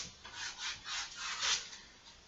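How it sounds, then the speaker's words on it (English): Light hand sanding on wood being prepared for French polishing makes soft, close rasping strokes, about five steady back-and-forth passes with brief dips between them, and no one speaks. "we're just very light sanding."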